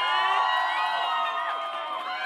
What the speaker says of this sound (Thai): กองเชียร์ดังๆอีกรอบนึงค่ะ